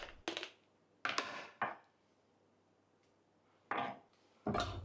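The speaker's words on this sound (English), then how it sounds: "Now let's grate that ginger finely through a microplane to add to our pork mix." Fresh ginger grated finely on a microplane for a pork meatball mix, heard as about five separate short rasping strokes, close and fairly crisp, with quiet pauses between them.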